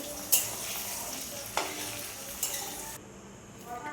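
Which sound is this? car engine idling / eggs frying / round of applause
eggs frying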